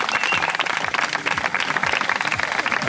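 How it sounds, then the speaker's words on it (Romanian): Steady audience applause at the award ceremony of a downhill mountain bike race in Mogoșa, a dense wash of many hands clapping throughout with no pause. "încă o dată aplauze pentru Cipri Mureșan"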